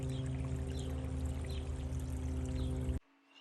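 Water poured steadily onto a transplanted mature blueberry bush, a continuous close splashing gush that runs for about three seconds and then cuts off abruptly into near silence.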